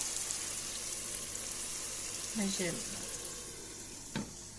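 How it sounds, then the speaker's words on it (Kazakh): Meat frying slowly in a pan over low heat gives a steady, quiet sizzle throughout, with a couple of soft clinks from stirring partway through. "Біраз баяу отта осылай етіміз әлі тұрады қуырылып"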